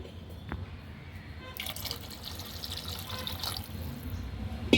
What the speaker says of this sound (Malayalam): അതുകൊണ്ട് കുറച്ച് വെള്ളം കൂടി ഒഴിച്ചിട്ടുണ്ട്